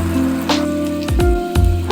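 Boiled potato pieces with salt and turmeric frying in hot oil in a kadai give a steady, close crackling hiss that runs through the whole short stretch, with a few sharper pops.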